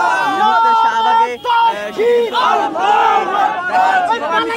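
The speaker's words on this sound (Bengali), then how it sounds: "পাশাপাশি তারা বিভিন্ন স্লোগান দিচ্ছেন" A large crowd at a Shahbag rally in Dhaka chants slogans loudly and continuously in rhythmic unison, many voices rising and falling together at close range.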